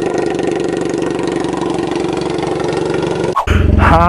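BMW F800 motorcycle engine idling while warming up, a steady close rhythmic chug that holds even, then a brief cut and a revving surge near the end.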